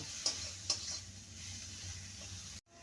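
Okra with tomato, salt and turmeric sizzles gently in a pan, with a couple of sharp spoon clicks against the metal early on over a soft, even frying hiss that cuts off abruptly near the end.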